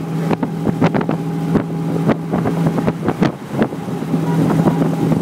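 A vintage Bentley 4-litre special's throaty exhaust burbles loudly with rapid pops and revs, a motorboat-like drone with gusts of wind buffeting the microphone.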